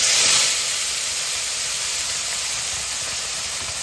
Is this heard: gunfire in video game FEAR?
no